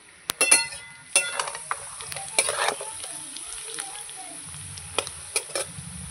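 Potatoes and onions fry in a pan for a Bengali pomfret curry with potato and tomato, giving a low, steady sizzle broken by several sharp clinks and scrapes of stirring, with no talk.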